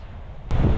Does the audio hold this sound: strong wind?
yes